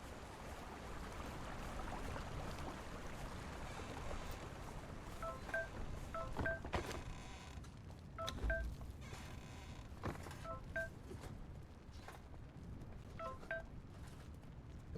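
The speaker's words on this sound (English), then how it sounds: "There goes my phone letting me know about everybody who's streaming." Phone notification chimes, short high-pitched tone blips repeated in small groups several times, faint over a quiet background with occasional soft clicks and rustles.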